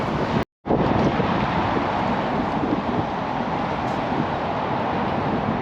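Wind buffets outdoors in a city square in Sofia, a continuous loud rumbling roar against the microphone with a brief dropout near the start and no talking.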